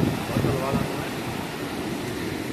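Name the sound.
ocean waves during a cyclone in Mauritius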